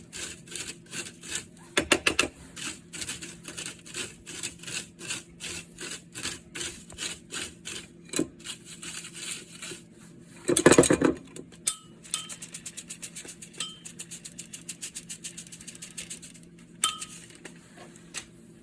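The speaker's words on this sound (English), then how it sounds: "So I'm just going to keep sieving this mixture." Ground biryani masala spice mix is sieved, a steady rapid rhythmic rasping and tapping of a sieve shaken back and forth, with a louder burst of rattling midway, close and continuous.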